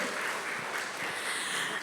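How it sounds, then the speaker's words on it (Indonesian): A congregation applauds at a church family-day service, a dense, sustained patter of many hands clapping at once, even and unbroken throughout. "Tepuk tangan lagi yuk."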